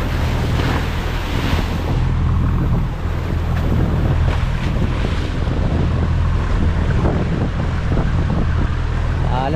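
Large white-capped sea waves stirred up by a passing ship, heard from aboard a boat: a continuous loud roar of surging water and wind buffeting the microphone, with heavy low rumble throughout and no pauses.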